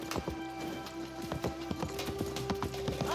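Steady rapid clip-clop of a horse's hooves at a brisk trot in Assassin's Creed Mirage, over a continuous tonal hum.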